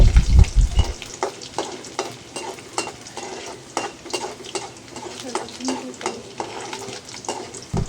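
Whole garlic cloves, black cumin and dried chilies fry in oil, sizzling loudly while a spoon stirs and scrapes against the pan in a repeated, uneven rhythm after a brief low thump at the start.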